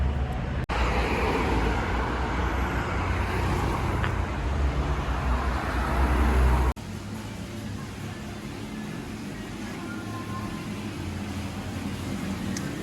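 Steady city traffic rumbling on the streets of Pristina, a continuous broad roar of road noise that shifts level partway through, with no voices.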